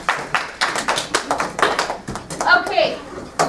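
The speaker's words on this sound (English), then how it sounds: "Give them a round of applause for volunteering" Classroom applause for student volunteers, a string of separate sharp claps in uneven bursts, close and moderately loud, with children's voices and chatter mixed in toward the end.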